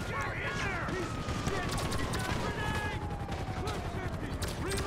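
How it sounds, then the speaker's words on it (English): Shots fired through walls at a player in the GTA 5 Online video game come as a dense, continuous rattle of close gunfire, layered with other game sounds and faint tonal noises. "how is someone shooting me through the walls?"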